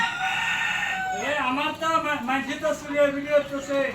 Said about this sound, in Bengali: দেখেন কত সুন্দর মুরগি সুস্থ অনেক সুস্থ